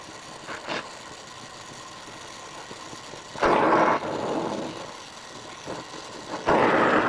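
Gas torch brazing an armature, a steady roar of flame flaring up in loud bursts between quieter hissing stretches, close by and without talk.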